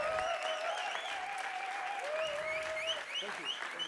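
Sustained applause from the audience at the European Slam Poetry Championship final in Košice, honouring the evening's hosts; dense, steady clapping fills the room, with cheering voices and whoops rising over it throughout.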